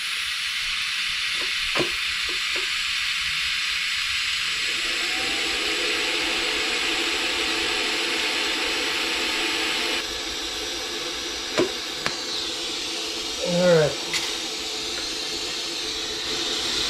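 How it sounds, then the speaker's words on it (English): Steady hiss of TIG welding on steel nuts being fixed to a classic Mustang body jig, with a few faint clicks and a brief tonal squeal near the end. "So we're going to go ahead right now and do some TIG welding."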